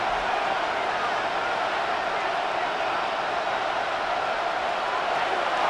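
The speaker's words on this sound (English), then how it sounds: "this crowd making it hard to hear" Stadium crowd noise in the Madden NFL 26 football video game, a dense, constant roar filling the whole clip, loud and unbroken, with no distinct voices rising above it.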